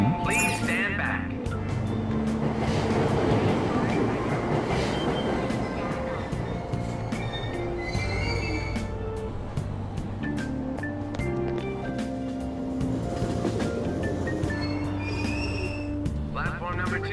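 Subway train in a Tokyo-style station in the video game Persona 5 Royal, a low rumbling of the train pulling away with metallic clinks and a chime, heard under a recorded platform announcement.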